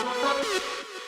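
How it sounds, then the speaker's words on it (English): A Froggy Voices synth preset from Nexus plays a short wobbling, vocal-like tone with a gliding pitch and a few bouncy blips, loud and alone in an electronic dance track break. "This is the Froggy Voices preset from Nexus."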